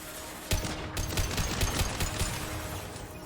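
Pistol gunfire from the Mass Effect 2 video game, a dense burst of rapid shots beginning abruptly and continuing loud and steady, with game sounds mixed in.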